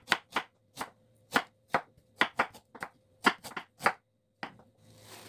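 Knife slicing garlic into thin slices and ginger into flat pieces on a cutting board while making winter dongchimi, heard as a series of crisp, close chops in an uneven rhythm, about a dozen strokes, with no talking.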